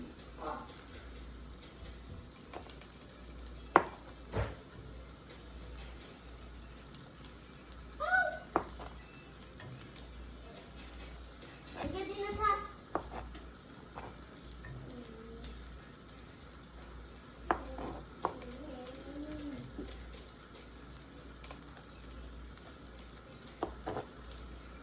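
Steak pieces sizzle steadily in a hot pan at low level, with scattered clinks and knocks as pieces are tossed back in and a few faint voice-like sounds drifting over the frying.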